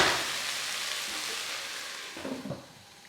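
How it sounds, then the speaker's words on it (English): Sausage, kale and vegetables fry in a pan with a bright, steady sizzle that fades slightly, followed by a few soft stirring clunks near the end. "now we've got your veggies and your meat going."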